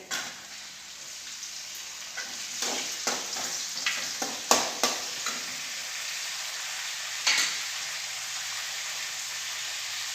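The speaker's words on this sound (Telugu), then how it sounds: "ఎర్రగడ్డ వేగింది కదా, ఇప్పుడు టమాటా వేయాలి." Fried onions and tomato sizzle steadily in a pan, a continuous hiss broken by a run of sharp spatters and stirring clacks in the middle, close and moderately loud with no talking.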